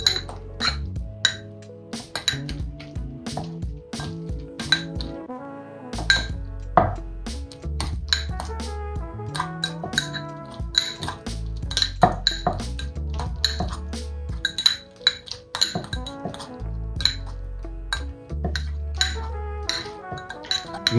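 Yogurt, chives, apricots and capers stirred together in a bowl, with repeated clinks and taps of a utensil against the dish, irregular and close, with no speech over them.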